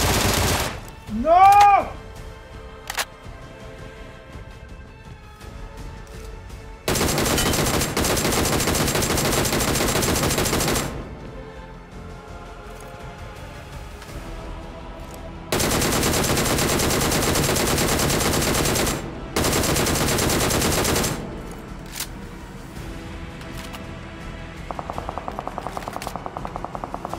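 Video game gunfire in several long, loud bursts of rapid automatic shots separated by quieter pauses, with a whistling tone early on and scattered game sounds between bursts.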